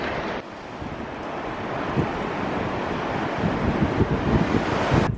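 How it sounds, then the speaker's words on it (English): Ocean waves breaking over Mullion Harbour on the Cornish coast in stormy weather, heard as a steady, loud roar of surf with heavy wind buffeting the microphone. "The waves break over that harbour and make a most fantastic natural spectacle."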